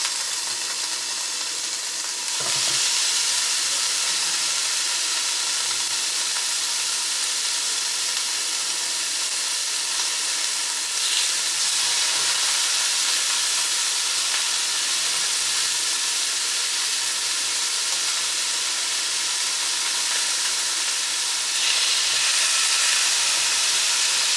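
Pieces of breaded food fry steadily in a pan, giving a continuous close sizzle and hiss that stays loud and even throughout, with no talking.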